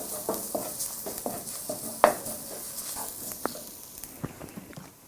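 Tomato paste cooking in a pan for an okra masala, a soft low sizzle with a spoon scraping and stirring in irregular strokes, one sharper clink midway, quiet and close with no talking.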